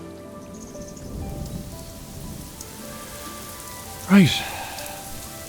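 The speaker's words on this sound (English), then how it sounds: "So, it's raining." Rain falling in the AFK Journey video game, a soft steady patter on surfaces under faint ambient game music, with a brief louder sweep near the end and a single spoken word.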